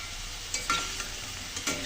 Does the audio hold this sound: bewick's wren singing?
no